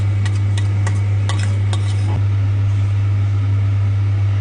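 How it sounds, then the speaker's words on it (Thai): Massaman curry paste goes into a pot and is stirred, a few quick clinking scrapes of a spoon near the start over a loud, constant low hum, then a soft bubbling that fades into the drone. "ใส่เครื่องแกงมัสมั่นลงไปเลยจ้ะ"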